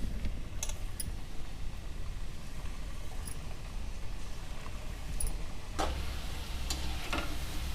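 Potato French fries frying in hot oil on medium heat, a steady close sizzle with a few sharp ticks and clinks throughout.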